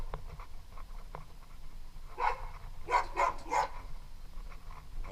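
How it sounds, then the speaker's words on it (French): A dog barks a few times in a quiet countryside setting, short distant yaps clustered midway through over faint background noise, with no talking. "Voilà, il aboie."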